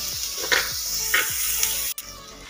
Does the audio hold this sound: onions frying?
yes